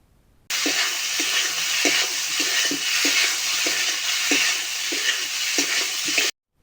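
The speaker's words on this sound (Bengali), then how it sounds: "মশলাটিকে ততক্ষণ কষাতে হবে যতক্ষণ তেল মশলাকে ছেড়ে যতক্ষণ বাইরে না আসছে।" Spice paste fries in hot oil in a pan for a pointed gourd and prawn curry, making a steady close sizzle with a regular scraping stir-beat roughly every half second. It starts and stops abruptly.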